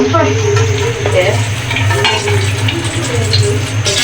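Oil heating in a pan for Bengali hilsa pulao, a steady close sizzle with a low hum throughout and light stirring clinks now and then, no talking.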